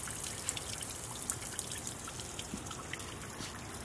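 Running water trickles steadily in a garden landscaping feature beside a walkway and statue, a soft continuous dribble with faint splashes, heard alone.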